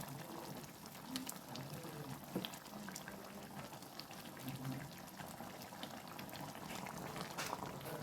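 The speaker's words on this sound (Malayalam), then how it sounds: "നന്നായിട്ട് തിളച്ച് വന്നിട്ടുണ്ട്" A pot of prawn curry made with kudampuli bubbling at a steady boil, a dense low bubbling and gurgling texture that stays close and even throughout with no talk.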